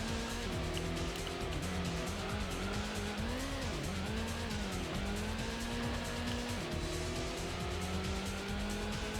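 Race car engine in the Gran Turismo endurance event SS Route 11 All Night 2, a loud, steady high-revving drone with rising and falling pitch as gears shift, plus a squeal of tyres, with no speech.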